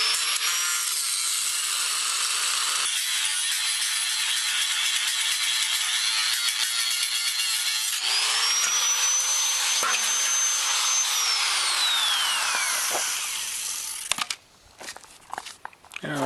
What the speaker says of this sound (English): maybe I'll cut this pin first, then take out that bolt head